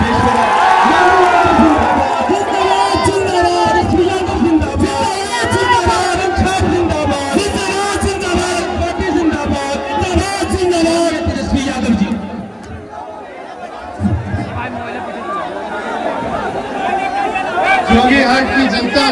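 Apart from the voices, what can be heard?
large crowd at an election rally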